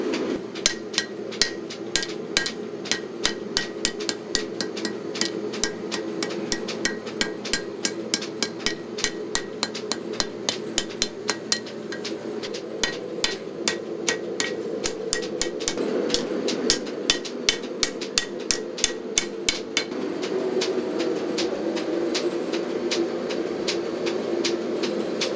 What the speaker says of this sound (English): Then we're going to turn it around and hammer the tang out in a minute.